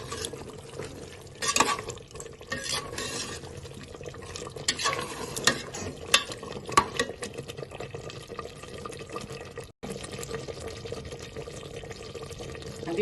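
Mutton korma masala is stirred in a pan, with wet scraping and sloshing strokes and sharp spoon knocks against the metal, steady and close over a faint sizzle, and no one speaking.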